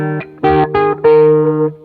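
Heavily distorted electric guitar through a Mesa Boogie JP-2C amp's crunch channel, playing chunky double-stop chords in a few short bursts, each ringing briefly before the next, loud and close.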